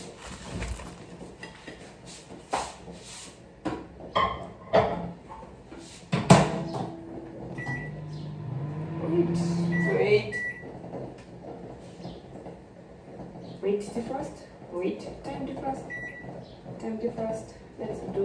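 A household microwave oven is opened, handled and set to defrost in a home kitchen, with scattered clunks, button beeps and a brief low hum, heard quietly between bursts of conversation.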